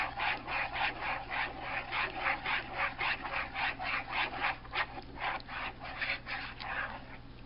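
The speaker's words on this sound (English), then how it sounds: "And you want to stir that." Spoon stirring blueberry gelatin mix in a bowl to dissolve it, a steady rhythmic scraping and rubbing repeated about twice a second, close and alone.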